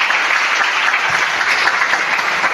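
A church congregation applauds in a steady, dense burst of clapping that fills the whole moment, loud and continuous without a break.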